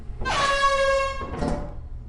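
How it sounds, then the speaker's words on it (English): An air horn item in the video game Lethal Company blares one long, loud, brassy blast, followed by a shorter second burst. "I find an air horn"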